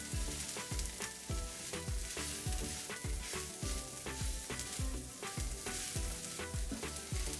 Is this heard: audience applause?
no